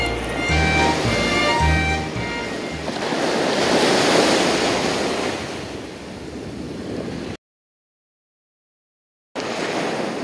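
Ocean waves wash steadily onto a sea beach at Kada beach in Wakayama, a broad continuous surf roar with some wind, ending in a sudden gap of silence before the surf returns.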